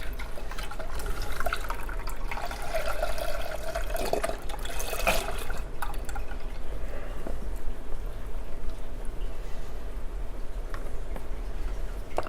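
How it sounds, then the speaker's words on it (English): Broth pours steadily into a cooking pot for quinoa, a continuous liquid splash and trickle heard up close for the whole stretch, with no talking. "So, we're going to put all the broth in here, 4 cups."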